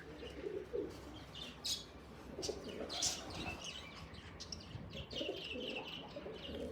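Several pigeons coo in low, repeated phrases, with occasional chirps and brief wing flaps mixed in, fairly close and steady throughout.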